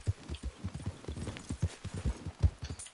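Horse hooves clip-clop in a video game, a quick uneven series of close hoof strikes with a light hum beneath them.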